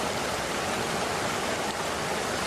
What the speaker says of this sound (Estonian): Nende 3 ja vahepealsete väiksemate astangutega langeb vesi 10 meetriga umbes 4 meetrit.